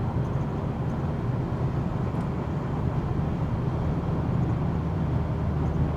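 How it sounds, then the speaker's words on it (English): Cars crawling along in a highway traffic jam, heard as a steady broadband road and engine rumble from inside a new car, constant and fairly loud with no distinct passing vehicles. "Yeah, it's a traffic jam."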